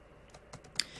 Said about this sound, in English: I'm just typing, not even real words, okay?